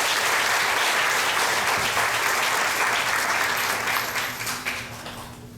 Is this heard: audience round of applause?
yes